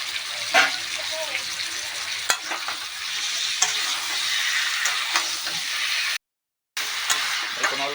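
Chicken and pre-fried potatoes go into spiced oil and fry with a loud, close, continuous sizzle and spatter, broken by occasional sharp clatters, then a brief cut to silence before the sizzle resumes.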